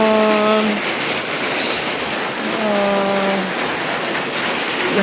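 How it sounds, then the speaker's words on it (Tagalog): Steady rain falls over a home garden of vegetable plants in a continuous wash of noise, with a low tonal hum swelling twice in the background. "Kay lisod na o magsigig ulan, baha."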